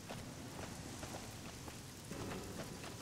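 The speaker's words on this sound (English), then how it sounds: "Yeah, it's just raining." Light rain falls steadily in Fallout New Vegas, a soft continuous patter at a low level with no other sounds.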